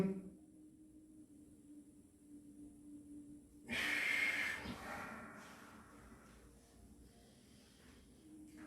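Deep inhale through the nose during a qigong breathing exercise: a sudden close, airy sniff-like rush of breath midway, fading into soft continued breathing in a quiet room.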